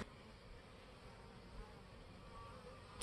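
A steady, dense insect buzz of many Saskatraz honeybees around a Langstroth hive fills the air continuously, with no voices and little change in loudness.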